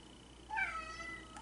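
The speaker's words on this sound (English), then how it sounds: "My cat is yelling at me." A house cat gives a single drawn-out meow, fairly close and clear against a quiet room, rising then falling in pitch.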